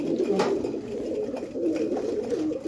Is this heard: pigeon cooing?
yes